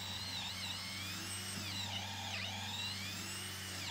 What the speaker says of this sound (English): drilling my first hole for the carriage bolt